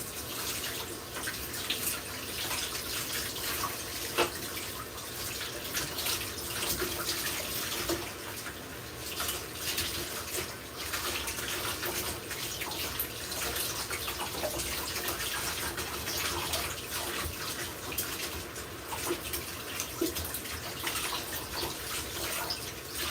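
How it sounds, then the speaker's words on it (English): Warm tap water runs steadily over vegetables being washed of dirt in a home kitchen, a continuous broadband splashing hiss with no speech. "So just wash them under some warm water."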